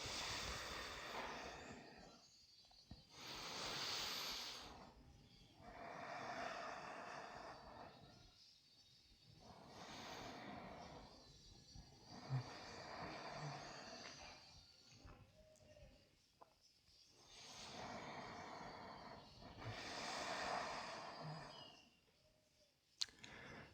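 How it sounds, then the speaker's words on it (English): Slow, deep breathing during a seated yoga twist, with three long, soft, hissing breath cycles rising and falling in a calm, even rhythm, close and quiet without speech. "3 slow deep breath here."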